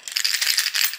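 Metal Swedish collar wrist pieces jingle and rattle against a microphone, a dense, close, bright clinking that pulses in quick bursts for about a second, with no talking.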